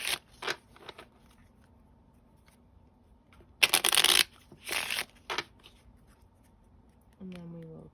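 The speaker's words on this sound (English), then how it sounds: "Just going to give these 3 shuffles." A deck of oracle cards is shuffled in a few quick bursts of crisp riffling and rustling, separated by short pauses and close by.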